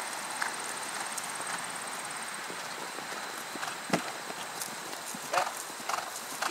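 A horse canters across a cross-country schooling course, its hooves giving a steady run of soft thuds under a rider's and trainer's voices and outdoor background noise.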